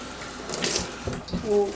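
Water running from a kitchen tap into a sink while cooking, a brief splashing gush with shifting flow, fairly close.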